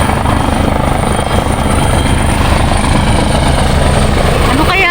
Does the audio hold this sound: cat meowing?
no